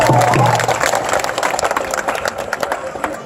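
Audience applause at a Lansing, Michigan gathering in support of Standing Rock, a broadband wash of clapping that stays steady and fairly loud across the whole stretch, with some crowd noise mixed in.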